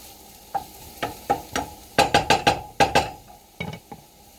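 Bechamel sauce for a green bean casserole cooking in a pan, with a utensil scraping and stirring in a steady series of distinct strokes over a soft sizzle, close and clear with no talking.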